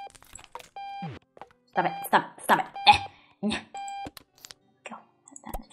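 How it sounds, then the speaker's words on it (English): Electronic alarm in the video game Octodad, with repeated short tonal beeps sounding between and under excited talking from a nearby voice. "It's an alarm."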